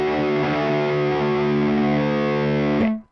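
A sustained distorted electric guitar chord through the amp's Modern Swamp preset rings out loud and thick for about three seconds, then is cut off abruptly.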